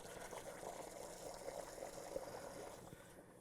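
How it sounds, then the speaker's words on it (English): Lemon water ice mixture pours and gurgles steadily into a B12 batch freezer, a soft continuous rushing with faint bubbling as air bubbles rise, quiet and close, without speech. "As you're filling it, you'll notice air bubbles come up."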